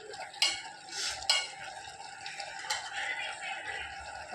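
Curry being stirred in a cooking pan, with a few sharp spoon scrapes and knocks against the metal over a low background hiss of cooking.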